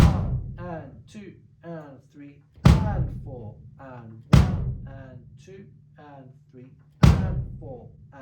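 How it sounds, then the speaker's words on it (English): Bass drum of a beginner rock kit struck once every two seconds or so, each deep thump landing on a steady eighth-note count, with a voice counting aloud between and over the hits. "On the bass drum it's going to sound like this."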